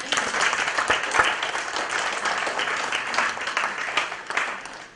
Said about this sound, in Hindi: कल्पित के लिए ताली बजाओ भाई एक बार